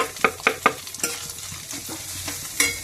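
Onion pieces drop into hot oil already holding browned fried items, then sizzle steadily with a few sharp stirring clatters at the start and a louder pop near the end, close and without talk.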